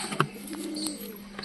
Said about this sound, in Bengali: পায়রা খুবই সুন্দর পায়রা